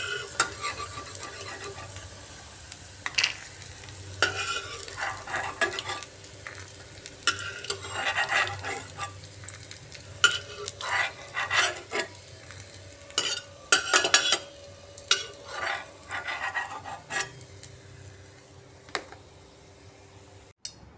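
Whole peanuts fry in a pan for a vegetarian recipe, a low steady sizzle beneath repeated scraping and clattering strokes of a spoon stirring them, close by and without talk.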